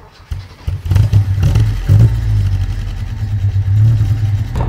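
A 1963 Alfa Romeo Giulia 1600 Spider engine drones while the car drives along, rising from quiet into a loud, steady mid-pitched note with brief surges as it pulls, recorded close with no talk.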